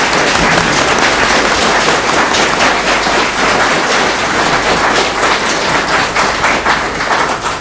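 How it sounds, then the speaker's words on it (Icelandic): A studio audience at a 1988 Icelandic televised quiz show breaks into loud, sustained applause, a thick wash of clapping that carries on without a break. "Við skulum gefa það gott klapp fyrir okkar svar."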